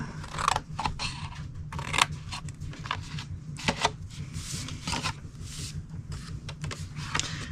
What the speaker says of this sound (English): Go to the next 2 sets of score lines and cut them to the second score line.